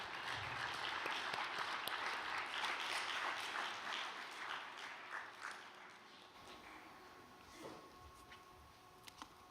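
Warm audience applause welcoming a speaker at a church gathering, fairly close and continuous, gradually thinning toward the end with a few sharp individual claps.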